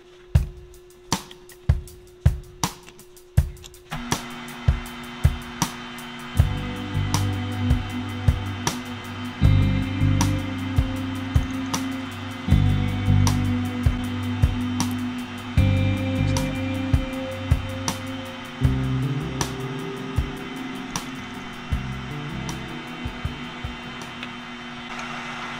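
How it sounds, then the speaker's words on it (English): A drill with an eighth-inch bit whines steadily through metal, pitch shifting as the bit bites, with repeated sharp taps and clicks at the start before the motor runs. "We're gonna use an eighth inch bit."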